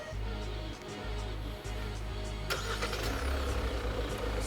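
A Hyundai Palisade gasoline engine starts by remote start, a nearby crank catching at mid-clip and settling into a steady, smooth idle hum with no talking.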